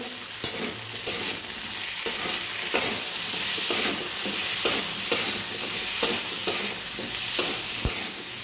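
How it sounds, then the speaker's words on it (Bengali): Taro dum cooks in oil in a pan with spices, salt and a little sugar. A dense, close sizzle runs throughout, punctuated by regular spoon scrapes and knocks against the pan roughly once a second. "ভালো করে একসঙ্গে সব কষিয়ে নেব"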